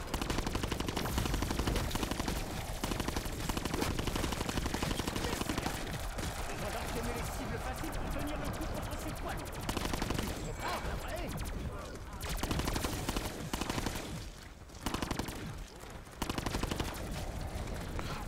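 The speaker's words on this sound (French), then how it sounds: "Elle a des balles explosives qui tirent au sol." Explosive-bullet gunfire in a zombie video game keeps up a dense, loud barrage of rapid shots and blasts for most of the stretch, easing briefly in a few short gaps.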